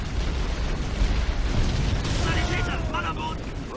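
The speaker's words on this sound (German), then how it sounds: "Die knallen sich irgendwie gerade alle gegenseitig ab" Continuous roaring battle din with booms and bursts of gunfire in the video game Halo Wars, loud and dense throughout, with some faint tonal effects layered near the end.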